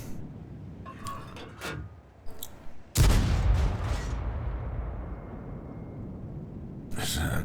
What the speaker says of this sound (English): Kaboom! Alright, so destroyed the Skoda T25 with some nice blind shots